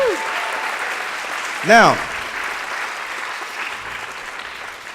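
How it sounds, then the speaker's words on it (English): Audience applause fills a live children's show, a steady wash of clapping running the whole time with a short spoken word over it. "give the kids, give everybody a round of applause"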